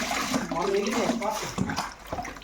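Tap water runs steadily into a tub while a puppy is bathed at home, a soft continuous splash beneath a person talking close by.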